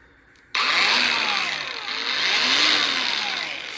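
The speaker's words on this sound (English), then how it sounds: "Spins up pretty quick." A SEESII cordless brushless 21 volt angle grinder switches on abruptly and spins up to a loud, steady high whine, with rising and falling tonal sweeps as it holds speed.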